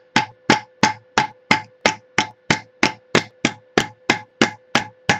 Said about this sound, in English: A nice hammer. And I'm not hitting it very hard.